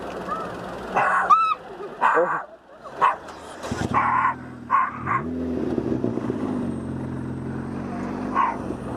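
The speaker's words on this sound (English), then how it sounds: "Oh, there's a dog." A dog barks and yips in a few short bursts along a road in the UK, heard from inside a car over engine hum, with people talking around it.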